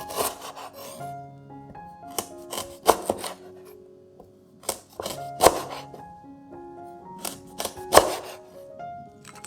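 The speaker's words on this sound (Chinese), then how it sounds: "首先将香茅打斜切片放到碗里备用。" A knife slices lemongrass diagonally on a wooden board, producing sharp irregular chops and rubbing strokes over soft background music, close and without talk.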